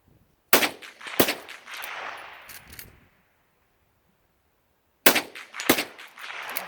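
Sharp, loud gunshots from an Ithaca Saddle Gun .22 Magnum rimfire rifle fired at steel targets outdoors: two close reports with a short ringing decay, a quiet pause, then two more shots.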